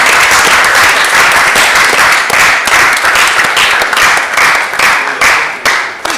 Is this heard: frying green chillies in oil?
no